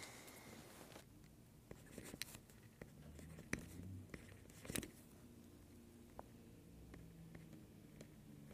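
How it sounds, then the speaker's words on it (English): A pen scratches quietly across a photographic print while it is signed and numbered by hand, with soft irregular strokes, a few small taps and no talk. "Now I need to sign and number the print."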